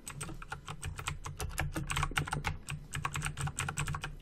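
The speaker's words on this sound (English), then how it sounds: "This keyboard is heavenly." Rapid, steady clatter of typing on a computer keyboard, close and clear, with dense overlapping keystrokes over a low background hum.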